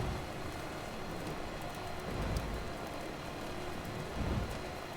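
Heavy timefall rain in the video game Death Stranding: a dense, steady hiss of rain on surfaces with low rumbling swells, continuous and fairly loud, with no talking.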